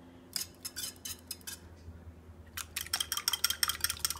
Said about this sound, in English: You just add them and whisk really quickly.